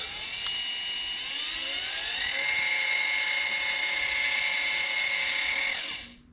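The motor of a Vevor HD10 welding positioner runs with a thin, steady whine that rises slightly in pitch, then holds and cuts off, fairly quiet and alone.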